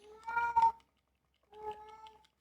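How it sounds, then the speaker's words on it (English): A cat meows loudly twice, a long drawn-out call followed by a second one after a short pause, close and clear with no talking. "Got my Devin meowing at me loudly."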